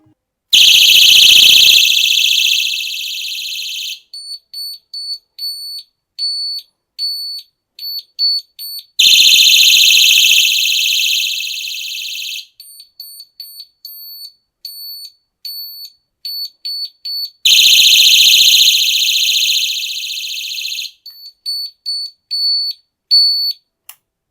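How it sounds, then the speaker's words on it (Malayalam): An Eveready DL 102 torch sounds its alarm siren: three loud, sustained shrieking blasts, each followed by a rapid run of sharp electronic beeps, repeating alone and close to the mic. "ഇപ്പോഴേ നമുക്കിതിൻ്റെ അലാറം ഒന്ന് ടെസ്റ്റ് ചെയ്യും"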